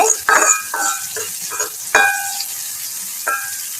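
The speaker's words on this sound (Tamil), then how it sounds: "நல்லா வதங்க விடுங்க" Eggplant pieces sautéing in leftover frying oil in a pan for a Jaffna-style curry, with bursts of sizzling and scraping stirs coming in irregular strokes, loud and close, with quieter gaps between.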